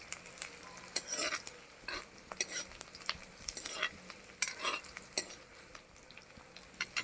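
Onions fry in a pan for a chicken dinner, with soft continuous sizzling broken by repeated scraping stirs of a utensil against the pan, fairly close and quiet, with no talking.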